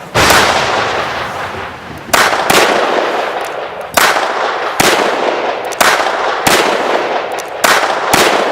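A volley of loud gunshots at a shooting range, about seven sharp cracks spaced roughly a second apart, each trailing off into a long echoing decay, with no voices.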